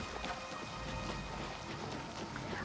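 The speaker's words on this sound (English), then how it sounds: "Can you hear that wet rain?" Steady rain falls in the Oblivion Shivering Isles fantasy game, a dense, continuous wash of droplets at moderate level with faint soft patters throughout and no voices.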